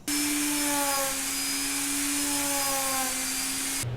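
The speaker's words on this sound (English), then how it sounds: "And I have a small sanding drum." A small rotary sanding drum whirs at a steady high pitch, close and constant, then cuts off abruptly near the end.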